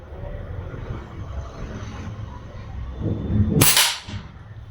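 An Air Arms PX100 Precision air rifle fires a single sharp, loud crack over low background rumble, with a brief bright snap and no talking.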